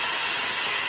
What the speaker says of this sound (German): noch mal eine Bonsai-Fontäne